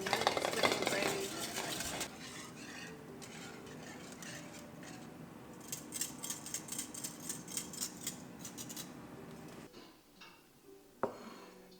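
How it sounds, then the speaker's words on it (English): A pan is stirred and scraped while gravy is made for a Christmas dinner, giving steady close rubbing and scraping with scattered light clinks of utensils and cookware, easing into quieter handling near the end. "it's just the pan, just making gravy"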